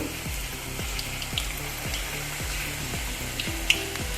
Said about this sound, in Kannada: ಎಣ್ಣೆ ಬಿಸಿ ಆಗ್ತಾ ಬಂತು ಈಗ ಸ್ವಲ್ಪ ಸ್ವಲ್ಪ ಸ್ಪೂನಲ್ಲಿ ಹಾಕುವ